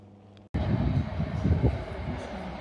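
A train pulls into London Euston station, its rumble cutting in abruptly and holding loud and close, a continuous rolling roar of rail cars with no talk over it.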